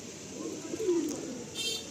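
Madrasi breeder pigeons coo in soft, low, rolling phrases as they leave, steady and fairly close over a faint background hiss, with no voices.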